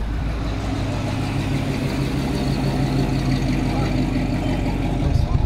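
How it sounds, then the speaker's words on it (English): A car engine rumbles loudly and steadily nearby as the vehicle passes, with a strong low drone and no speech over it. "nice car"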